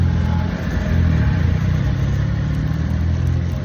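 A car engine hums steadily from inside the moving vehicle, a low, even drone with slight rises in revs, and no talking over it.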